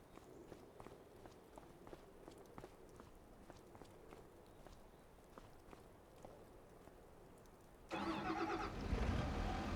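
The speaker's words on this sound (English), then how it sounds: "so that's the engine. Let's wait till that warms up." A vehicle engine in Farming Simulator 25 turns over and settles into a loud, steady idle as it warms up, after a stretch of quieter in-game footsteps and ambient clatter.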